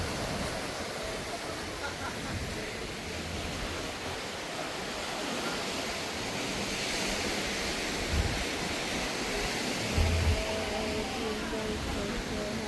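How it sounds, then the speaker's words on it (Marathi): Arabian Sea surf at Kochi washes in as a steady, broad roar, close and continuous, with wind buffeting the microphone and a couple of slightly louder surges near the end. "तर हा बघा इकडं समुद्राच्या लाटाच लाटा मस्त."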